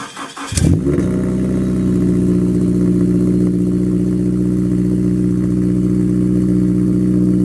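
A 2014 Scion FR-S with a straight-piped Borla exhaust, close up beside the tailpipe, fires up with a sharp bark and then settles into a loud, steady, throaty idle drone that fills the rest of the clip.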